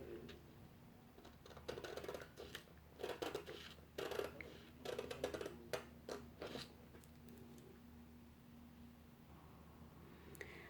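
Scissors snip through a paper sewing pattern for an asymmetrical garment: quiet, close clusters of crisp cuts in short bursts, then a still pause with faint room hiss.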